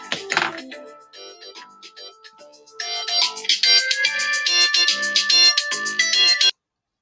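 A phone ringtone from an incoming junk call plays as a loud, bright electronic melody of repeated tones, fuller and louder in its second half, then cutting off abruptly.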